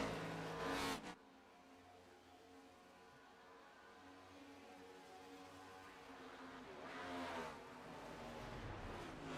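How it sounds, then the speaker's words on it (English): NASCAR Next Gen race cars in a racing video game, engines roaring steadily with a loud burst at the start and another swell of revving passing near the end, no talking. "you could just hear these cars just clutching"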